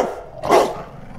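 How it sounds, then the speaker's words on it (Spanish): A single loud, close dog bark rings out on its own in a Spanish film comedy trailer. It is short and sharp, with no talk over it. "Otra vez con el perro."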